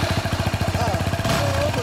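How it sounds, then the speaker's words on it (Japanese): A 2017 Yamaha WR250R dual-sport motorcycle idles close by with an aftermarket exhaust, a rapid, even thumping pulse that briefly revs up near the end, while people talk over it. "ごめん、エンジン音聞かせてもらえる？"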